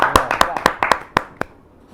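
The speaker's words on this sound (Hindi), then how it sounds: "या जोरदार ताली के साथ" An audience at a Hindi poetry recital applauds in a short burst of sharp, distinct claps that quickly thin out and fade within two seconds.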